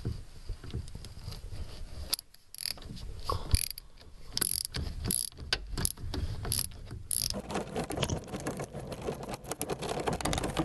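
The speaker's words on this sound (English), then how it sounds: "I'm going to use a 17mm socket and ratchet" A ratchet with a 17mm socket turns strut nuts on the rear of a 1993–99 VW Jetta TDI, with bursts of rapid close clicking separated by quieter gaps and light handling noises.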